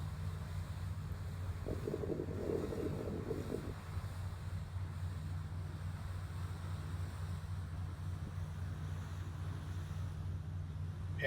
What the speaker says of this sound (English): You can hear the wind whipping in the background,